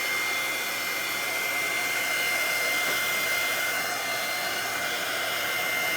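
A heat tool blows steadily on a primitive Halloween centerpiece craft project, a continuous close airy whoosh with a high whine that holds even for the whole stretch, with no talk over it.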